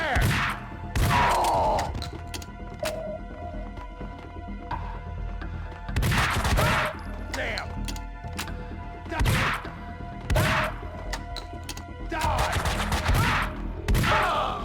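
Shotgun blasts in the action shooter Max Payne 2, several loud booming shots spaced a few seconds apart over a busy gunfight backdrop with crashes and thuds between them.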